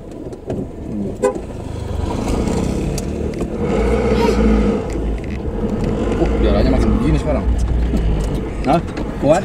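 A car engine labors on a steep, newly cut hill road between Sentul and Puncak, a loud sustained rumble that swells and eases, with brief horn-like tones and people talking inside.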